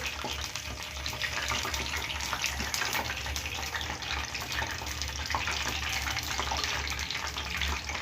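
Spinach pakora batter sizzles in hot oil in a pan, a loud, continuous frying hiss that holds steady throughout with no talking.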